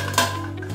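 A metal lid clatters onto a cooking pot of spinach on the stove, one brief clink over a steady background hum.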